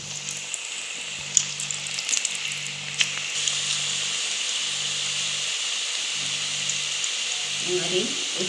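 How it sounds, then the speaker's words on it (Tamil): Gram flour pakoda deep-frying in hot oil, a steady broadband sizzle that holds throughout, with a few sharper crackles and spatters early on and faint talk near the end. "அப்போ தான் எல்லாம் ஒரே அளவாக பகோடா வேகும்."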